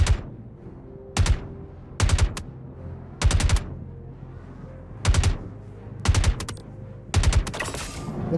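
Gunfire in the sci-fi shooter Star Citizen: repeated short, loud bursts of two to four rapid shots, spaced about a second apart over a low steady hum, with no talk.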